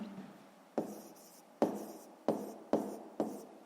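A pen writes on paper while someone works a fifth-grade maths exercise on room areas, with several sharp strokes and taps coming every half second or so over a soft scratching, close and with no speech.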